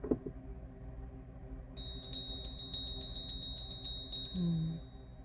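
A small bell rings rapidly and repeatedly for a few seconds, bright and fairly close, then its tone lingers and fades, with a faint low sound underneath.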